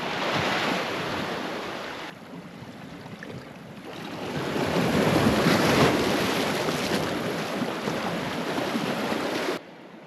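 Ocean waves roll onto a beach near Cetti Bay, Guam, with a broad, hissing roar that rises and falls, heard outdoors with gusts of wind buffeting the microphone.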